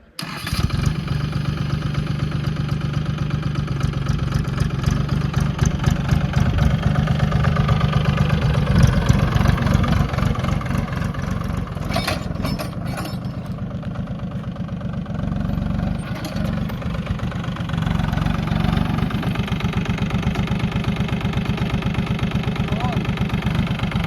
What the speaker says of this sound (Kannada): ಬನ್ನಿ ಈ ಟ್ರ್ಯಾಕ್ಟರ್ನ ಓಡಿಸಿ ನೋಡೋಣ ಹಾಗೆ ಈ ಟ್ರ್ಯಾಕ್ಟರ್ನ ಸೌಂಡನ್ನ ಕೇಳಿಸ್ಕೊಳ್ಳಿ